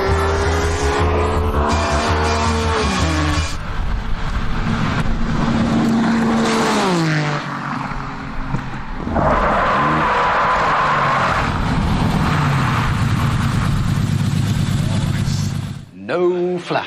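A TVR Tuscan S sports car at over 170 mph on a test track, its engine roaring loudly with rising and falling pitch sweeps as it speeds past, under talk and background music.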